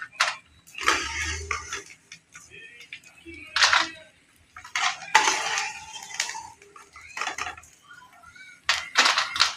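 Fried edible gum for laddu being moved from a pan onto a plate: intermittent metallic clinks, taps and scrapes of a utensil against cookware, coming in short bursts with quiet gaps between them.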